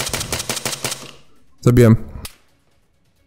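Rapid automatic gunfire in Arma 3 with the Exile mod, a rattling burst of close shots for about a second, followed by a short spoken word and a couple of sharper final cracks before silence.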